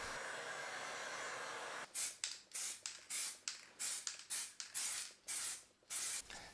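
Brown paint is sprayed onto a wall light board in a series of about ten short, sharp hissing bursts, each separated by a brief pause, after a low steady hiss.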